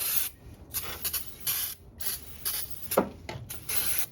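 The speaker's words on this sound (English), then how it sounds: "I'm gonna go ahead and clean up down here with some brake cleaner." Brake cleaner sprayed onto a BMW E90 N52 engine manifold in repeated short, close hissing bursts separated by brief pauses.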